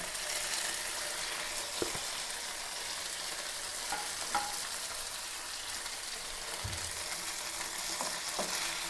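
Chicken and curry leaves fry in a pan with a steady, bright sizzle, broken by a few soft stirring scrapes and knocks of a spoon.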